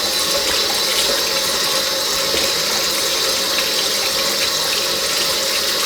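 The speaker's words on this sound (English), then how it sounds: "add in some water." Water is poured from a tap into a bowl of raw chicken pieces soaking for Korean fried chicken, a steady continuous rushing and splashing that runs close and fairly loud for the whole stretch with no talk.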